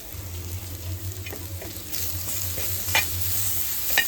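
Bitter gourd fries with jaggery and tamarind in a pan, making a constant close sizzle that grows louder halfway through, with a few light clicks of stirring and no talk.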